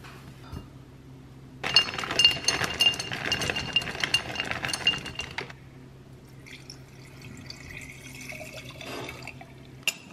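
Blueberry coconut overnight oats mixed in a glass jar: a close burst of rapid clinking and scraping against the glass lasts a few seconds, then gives way to quieter, sparse taps and rattles.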